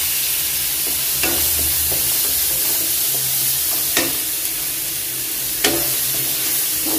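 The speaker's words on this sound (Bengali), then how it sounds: "পেঁয়াজটা একটু ভাজার পর এখন দিয়ে দিচ্ছি এখানে একটা টমেটো" Tomato frying with onion in a pan gives a steady sizzle throughout, with a few sharp scraping stirs of a spatula, no voices.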